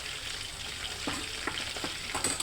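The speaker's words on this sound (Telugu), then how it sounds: "అల్లం బాగా చిన్నులపై బాగా వేగింది ఫ్రెండ్స్." Chopped ginger frying in hot oil in a pan, a close, steady crackling sizzle with a few brief stirring scrapes and no voices.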